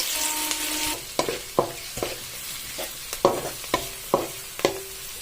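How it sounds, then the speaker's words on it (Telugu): Chopped onions and cashews frying in a pan, a soft sizzle under repeated crisp knocks and scrapes of a spatula against the pan, roughly one every half second toward the end, with no one speaking. "చిన్నది ముక్కలుగా కట్ చేసుకున్న ఆనియన్స్ వేసి ఫ్రై చేసుకున్నాం పచ్చివాసన పోయే వరకు"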